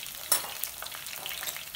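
Onions and about ten garlic cloves crackling and frying in oil, a soft continuous sizzle with a few light stirring clicks near the start.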